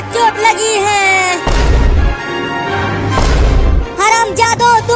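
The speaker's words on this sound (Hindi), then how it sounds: "अरे चिंटू देखो, मम्मी के पास क्या फट गया" A cartoon Diwali firecracker blast lands near a mother, heard as a loud booming burst of noise between stretches of high, squeaky cartoon voices.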